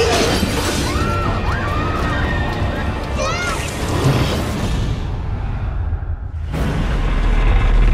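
A plate glass door bursts in a loud shattering crash, glass breaking and spilling over dense rumbling noise and eerie chittering, followed by a brief quiet dip and a renewed roar.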